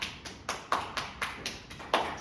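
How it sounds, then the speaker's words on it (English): Hands clapping about every quarter second, roughly nine sharp, fairly close claps in a steady rhythm during a yoga self-massage routine, with no talking. "give yourself a clap"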